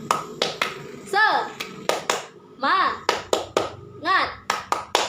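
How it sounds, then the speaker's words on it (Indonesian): A Year 4 classroom of children performs the rhythmic 'tepuk semangat' clap, sharp patterned bursts of handclaps alternating with short chanted syllables from the kids. "Tepuk semangat"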